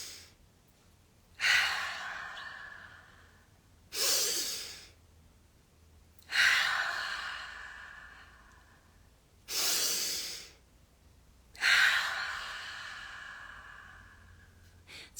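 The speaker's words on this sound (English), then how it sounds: "breathing in with a forceful inhale through the nose" A series of five forceful nasal inhales and exhales during a breathing exercise, each a strong hissing rush of air close to the mic, spaced about two to three seconds apart over a quiet background.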